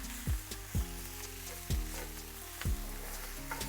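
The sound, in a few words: quinoa frying in toasted sesame seed oil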